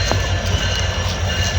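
A train approaches at a border crossing, heard as a steady low engine drone with a rhythmic pulsing rumble that holds level throughout a short stretch, moderately loud.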